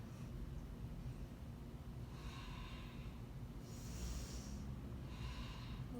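Slow, deep breaths during a yoga pose come as soft airy rushes, a few breaths spaced across a quiet, low background hum, faint and close with no talk.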